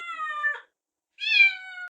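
A kitten lets out two clear, drawn-out meows separated by a brief silence, close to the microphone with nothing else audible.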